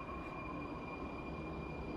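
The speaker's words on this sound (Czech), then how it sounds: "We're now on Metro B, the yellow line" An overhauled Soviet metro train rolls along Prague Metro line B, a steady loud rumble with a sustained high whine running throughout the ride.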